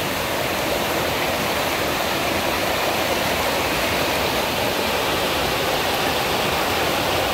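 Arnel Falls in Taiwan pours in a dense, unbroken roar of falling water, loud and close, a steady wash of noise with no letup and no voices.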